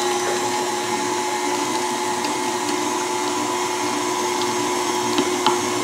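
A kitchen meat grinder whines steadily while grinding turkey meat, its motor drone loud and unbroken at close range with faint clicks on top, and no voices.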